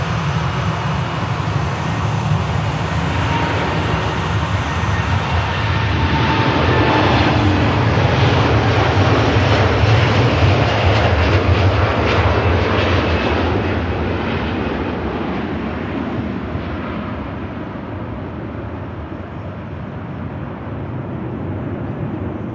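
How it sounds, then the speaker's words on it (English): A heavy Boeing 787 Dreamliner climbing out of Manchester Airport bound for Mumbai, its jet roar building to a loud broad peak midway and then slowly fading into the distance. "Heavy old Dreamliner. I won't see much of that climb out."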